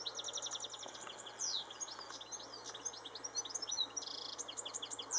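Small songbird singing just after nine on a bright morning in Northern Ireland, rapid high chirps and trills repeating without pause, fairly faint over a quiet hum.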